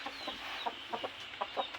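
Gamecock chickens give a string of short, close clucks in an irregular rhythm over steady background noise.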